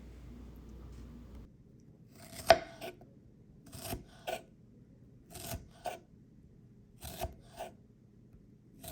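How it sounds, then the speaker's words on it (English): Knife cutting through a fresh strawberry horizontally after its stem has been removed, giving about six short, crisp slicing strokes spaced roughly one to one and a half seconds apart, close up on a quiet background. "Or we can again cut the stem and simply slice horizontally."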